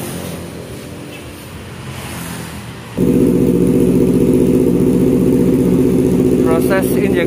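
A Honda CBR250RR motorcycle engine runs steadily during injector cleaning at 60 PSI, a low idle hum that jumps to a louder, denser drone partway through and holds constant to the end.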